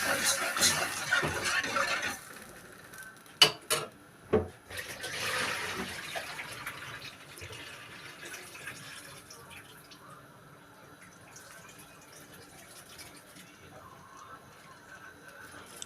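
Water is poured into a cooking pot, a splashing gush that runs for a couple of seconds, followed by a few sharp knocks and then a quieter lingering rush fading into low background noise.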